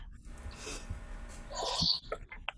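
A single sneeze bursts out near the middle, preceded by a sharp intake of breath, followed by quiet shuffling and faint breathing.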